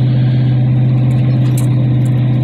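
A 2009 2500HD pickup with the 6.0 gas engine runs steadily nearby, a loud, even low drone with no voices.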